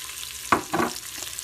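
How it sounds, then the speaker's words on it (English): Bacon pieces and chopped onions sauteing in a pressure cooker, giving two short bursts of stirring and frying noise over a low background hiss, with no voices. "I'm sauteing the bacon."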